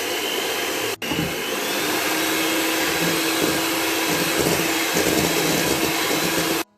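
A hand mixer beats eggs with sugar and a pinch of salt in a bowl for a chocolate ring cake, a loud, steady motor whine running continuously with one brief cut near the start and no talking.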